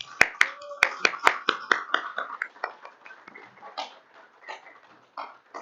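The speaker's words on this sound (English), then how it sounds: "Let's give a round of applause for our graduates." Small crowd at a service dog team graduation for veterans claps in a light, scattered round, sharp individual claps at first that thin out and fade over a few seconds.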